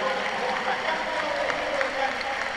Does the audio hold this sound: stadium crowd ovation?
yes